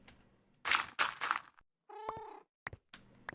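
A Minecraft cat gives several close, clear meows with short gaps between them, alternating with soft purr-like sounds in an otherwise quiet in-game setting.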